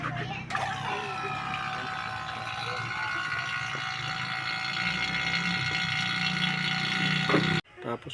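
A vacuum pump runs while evacuating the aircon system of a Suzuki multicab, a steady mechanical drone with a high whine, close and continuous until it cuts off abruptly near the end.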